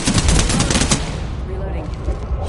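Rapid automatic gunfire in the video game Apex Legends, a dense burst of loud repeated shots for about a second that then drops away into quieter game sounds.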